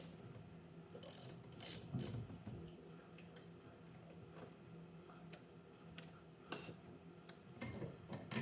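A ratchet wrench clicks in quick repeated bursts while loosening a 9/16 nylon nut on a Bushtec shock mount, close and fairly quiet, with metallic ticking and handling noise between strokes.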